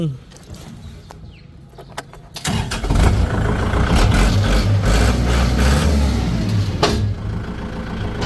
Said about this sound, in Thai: ฟังเสียงเครื่องยนต์นิดนึ